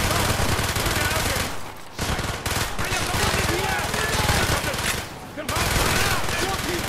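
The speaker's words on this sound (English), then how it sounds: "I guess they're only shooting through snow." Rapid machine-gun fire rattles in Call of Duty: Black Ops in a snowy level, loud and nearly continuous bursts with brief pauses, a voice talking over the shooting.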